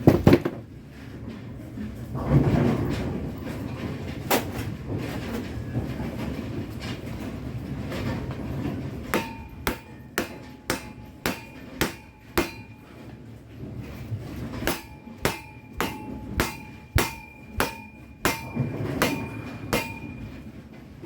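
Repeated metal hammer strikes on a pulley of a GS pinsetter rear transport roller, sharp ringing blows coming in two quick rhythmic bursts after some low workshop rumble, close and fairly loud.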